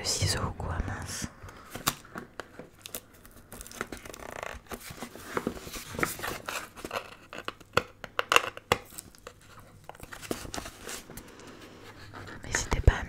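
Crinkling and tearing of packaging as a Blissim beauty subscription box is opened by hand, with soft rustles and scrapes and a voice speaking quietly throughout.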